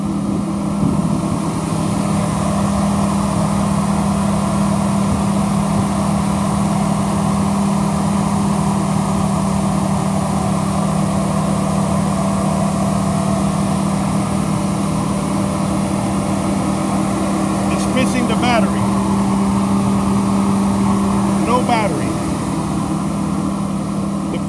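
A 2013 Chevrolet Tahoe PPV police package vehicle runs at a steady idle, producing a continuous low engine hum that stays even and close for the whole stretch, with no talking.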